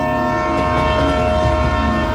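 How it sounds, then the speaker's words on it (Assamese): A long train rumbles past with a sustained, tonal horn blast held loud and steady throughout, with no other sounds over it. "দীঘলকৈ ৰেল।"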